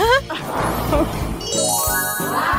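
Bright bells jingle and tinkle in quick ringing tones, mixed with busy background sounds and a brief voice.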